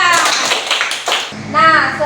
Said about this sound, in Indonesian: tepuk tangan dulu untuk Tirsa.